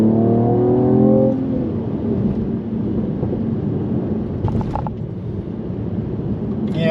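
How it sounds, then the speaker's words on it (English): A Mercedes-AMG E53 sedan in Sport Plus mode on a twisty road gives an engine swell that falls away into scattered exhaust crackles and pops, with a voice faintly under the engine noise. "Oh, you hear those crackle and pops?"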